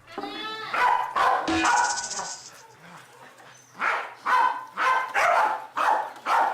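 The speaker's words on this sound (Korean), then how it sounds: "혼자 계속 저렇게 짖으면서 다녀요." A Welsh Corgi barks loudly and close by, with sharp yips at first, then a quick rhythmic run of barks, interspersed with some whiny tones.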